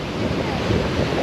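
Waves wash onto a beach on the Sri Lankan coast, heard as a steady broadband roar of surf mixed with wind buffeting the microphone throughout.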